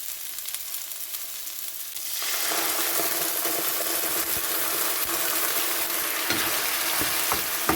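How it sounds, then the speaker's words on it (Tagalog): Miswa noodles with patola gourd and sardines cooking in a pan, starting quiet then breaking into a loud, steady sizzle and frying hiss that continues throughout, with occasional clinks of stirring. "Magluluto ako ng ulam ko guys. Miswa na may patula with sardinas."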